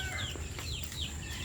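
Cobra x Sweater gamefowl roosters cluck softly at feeding time. The clucks are faint and scattered over a low steady background hum, with no voices.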